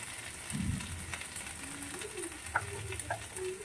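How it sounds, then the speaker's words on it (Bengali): Tomatoes fry with onion, ginger, garlic and a little salt in a pan for an egg and soybean curry, giving a soft, steady sizzle with faint stirring scrapes, close but quiet. "ওই টমেটো দুটোকে ভালো করে এই পেঁয়াজ আদা রসুনের সঙ্গে দিয়ে দেবো, সামান্য লবণ দেবো।"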